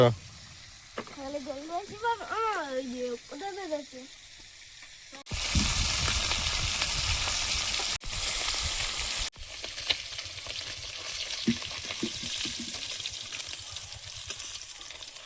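Fish fries in hot oil in a pan, sizzling loudly and steadily, with occasional clinks, after a stretch where a voice sings or hums over quieter cooking sounds.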